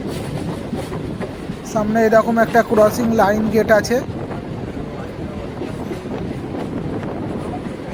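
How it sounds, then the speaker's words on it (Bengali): A local train on the Howrah–Barddhaman chord line rolls into Shaktigarh station with a steady rumble and rattle of carriages, a brief burst of louder, tonal sound midway, and a person talking over it. "আমাদের ট্রেন এখন শক্তিগড় স্টেশনে ঢুকছে।"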